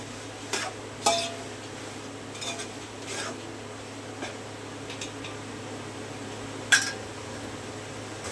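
A spoon scrapes and knocks against a pot while chicken biryani ingredients are mixed, giving scattered clinks and taps over a low steady hum, with one sharper metallic clank near the end.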